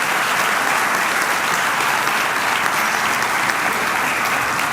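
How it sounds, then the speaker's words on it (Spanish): A church congregation breaks into loud, sustained applause, many hands clapping together in a dense, even roar filling the room without pause. "Le podemos dar un aplauso al Señor."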